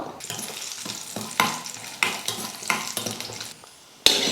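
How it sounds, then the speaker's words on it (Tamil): Cashews and raisins fry in a pan, sizzling steadily while a spoon scrapes and stirs in regular strokes; a sharp clink sounds near the end after a brief lull. "இப்போ முந்திரி போட்டு வறுத்துக்கலாம். முந்திரி ஓரளவுக்கு வறுப்பட்டதுமே திராட்சை சேர்த்துக்கலாம்."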